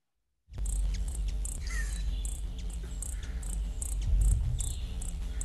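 Backyard birds give short, high, repeated chirping calls over a low, steady buzz, like wings beating in flight nearby. No one speaks.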